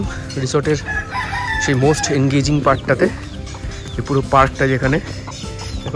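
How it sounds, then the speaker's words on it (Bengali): A desi rooster roaming a resort's grounds in the morning crows loudly several times nearby while someone talks over it. "এই দেশি মোরগ টোরগ ঘুরে বেড়াচ্ছে।"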